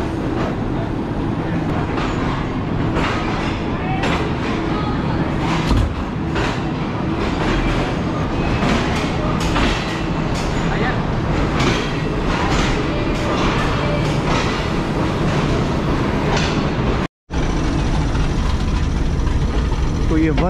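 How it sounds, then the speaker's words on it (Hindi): Green Line Express train pulling out of Rohri Junction railway station, a loud, steady rumble and clatter of wheels and carriages with someone talking over it throughout. "हमारी ट्रेन डिपार्ट कर रही है रोहड़ी जंक्शन रेलवे स्टेशन से"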